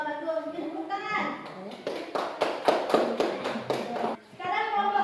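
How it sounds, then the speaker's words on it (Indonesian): Children in a classroom break into a burst of hand clapping, a rapid cluster of claps lasting a few seconds, with a teacher's voice speaking before and after. "Mungkin tepuk tangan."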